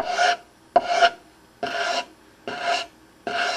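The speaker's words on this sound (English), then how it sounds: "with kind of a arced motion sand away the part of the butterfly that's proud" A proud butterfly inlay on a wooden piece is sanded down with arced strokes. Five even, rasping passes are heard, each about half a second long with short pauses between them, close and alone.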